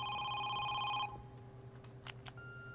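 A telephone bell rings loudly in the game Home Sweet Home, one sustained trill that stops abruptly, followed by faint clicks and a quiet tone.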